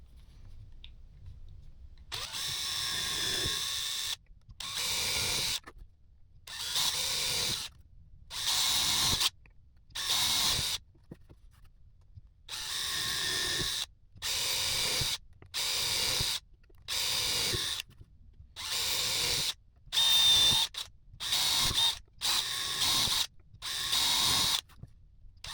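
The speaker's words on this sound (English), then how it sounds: "we're going to drill these holes" An electric drill bores holes through thick leather laid on a scrap block of wood, run dry: about fifteen separate whirring bursts of roughly a second each, close and loud, with short silences between them.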